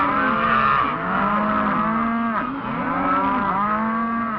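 Cattle bawl and low repeatedly at calf branding on a working ranch, with several overlapping drawn-out moos close by and loud, continuous from start to finish.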